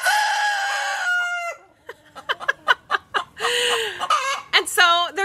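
Chickens on a homestead: a rooster crows loudly up close, followed by a run of sharp clucks and squawks and another crow, clear and alone with no talk.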